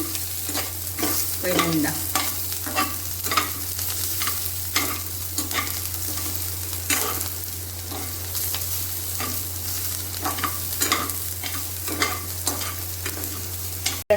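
Garlic frying in rendered chicken fat over a lowered flame for a green chicken dish: a steady, even sizzle runs throughout, broken by repeated scraping stirs, with one brief spoken word.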